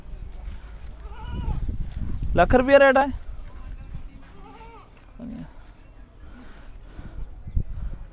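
A goat bleats loudly once in the middle, a wavering nasal cry, while people talk nearby before and after at a goat market in Mullanpur.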